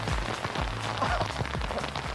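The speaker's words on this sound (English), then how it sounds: "Is that hail?" Hail pelts down outdoors in bad weather, a dense patter of hard pellets striking surfaces, loud and continuous with no talk.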